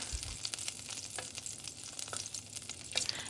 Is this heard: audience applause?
no